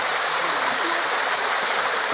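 A small waterfall on a rocky gorge stream gives a loud, close, steady hiss and splash of falling water, with no break and no voices.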